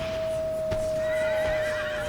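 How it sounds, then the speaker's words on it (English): A horse whinnies loudly during a cavalry charge against a pike square in the strategy game Empire: Total War, a clear neigh over steady battle noise and faint hoofbeats. "Horse charging a pike square"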